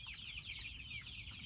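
Chickens clucking softly at lunchtime feeding, a brief stretch of quiet, continuous fowl chatter with low rustling underneath.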